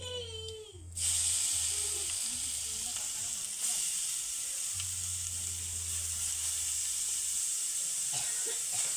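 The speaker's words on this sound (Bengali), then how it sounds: "হালকা আঁচে গাজরগুলোকে বেশ কিছু সময় ধরে ভেজে নেব।" Grated carrots frying in mustard oil over low heat, a steady hissing sizzle that starts abruptly after a brief sound and then holds evenly, close and moderately loud.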